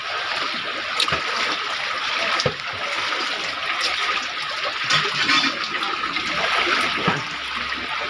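Floodwater from typhoon Enteng rushes and sloshes in the area behind a house, a loud, steady watery roar with occasional splashes, and no speech over it.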